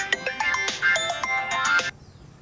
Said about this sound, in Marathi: नाना फोन तर उचला.